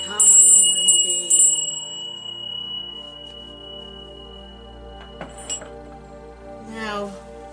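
A bell rings during a Norse ritual, giving bright struck tones with a long shimmering decay, followed by fainter chimes and clinks over a soft sustained drone.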